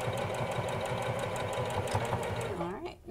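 A sewing machine stitches a fabric face mask through its elastic, a fast even rattle of needle strokes running near and loud before slowing and stopping at the end.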